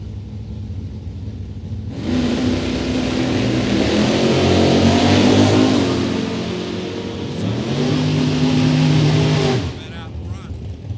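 Drag racing cars, including a big old Plymouth Belvedere, launch and accelerate with a loud, deep engine roar that swells, eases, then surges again before cutting off, while an announcer talks over the noise.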